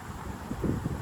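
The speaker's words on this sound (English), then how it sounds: "And I really hope you can hear me, because it's windy" Outdoor wind buffets the microphone, a loud, low rumbling roar with uneven gusty thumps swelling toward the end.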